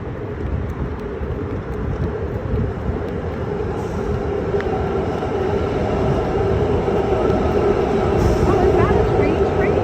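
A BART subway train rumbles steadily along the tracks, a continuous low roar that swells slightly louder toward the end, with faint squeaks above it.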